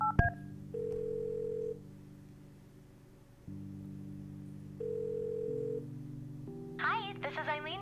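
A telephone in the Kathy Rain video game dials a dorm room, with a steady low tone and a few longer electronic beeps in sequence, quiet and close, before a voice starts talking at the end.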